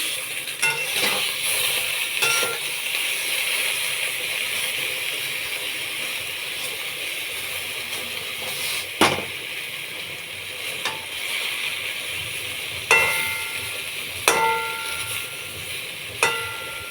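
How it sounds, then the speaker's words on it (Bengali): Eggplant pieces fry in a wok for a vegetarian eggplant bharta, giving a steady, close sizzle throughout with a few sharp clatters of stirring scattered among it and no voices. "এইভাবে আমি বেগুনগুলো কড়াই দিয়ে দিয়েছি"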